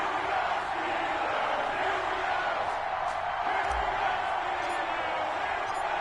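An NFL stadium crowd before a Denver Broncos versus Pittsburgh Steelers game, a dense continuous roar of cheering and shouting, loud and sustained with a brief thump partway through.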